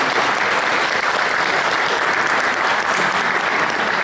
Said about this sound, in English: let's give a round of applause for all the candidates here tonight